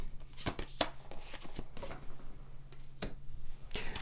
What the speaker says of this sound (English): Let's pull some more tarot cards.